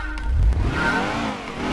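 A Fiat in the racing game Gran Turismo 2 revs its engine loudly and close, the tone swelling and then settling into a steady, buzzing drone.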